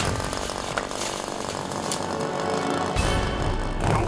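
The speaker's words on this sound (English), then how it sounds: "Let's fire up the pole chainsaw and try and free these bucks." A pole chainsaw engine runs loud and steady at close range outdoors, a continuous buzzing roar with a brief surge in pitch near the end.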